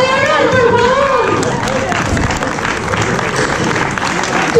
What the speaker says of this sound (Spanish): ¡Un aplauso para Leonor, por favor!